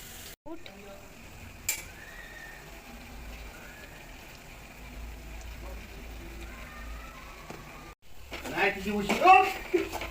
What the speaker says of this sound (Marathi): छान असं फ्राय करून घ्यायचं कांदा टमॅटो आले लसूण घरचा मसाला नीट सगळी ढोबी मिरची टाकून घेतली आहे